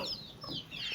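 A flock of domestic chickens, roosters and hens together, cluck in short, nearby bursts that rise and fall during a brief moment with no talking.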